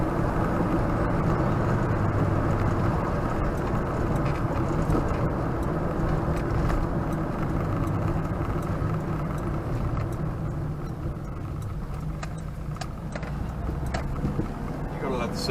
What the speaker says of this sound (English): You've got to love the sound of a flat four.